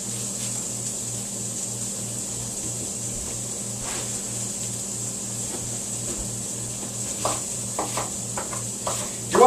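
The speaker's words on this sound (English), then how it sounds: "Listen to the simmer, ever so sweet." Vegetables and chopped onion simmer in a pan with a soft, steady sizzle under a constant low background hum, followed by a few sharp knocks and clinks near the end.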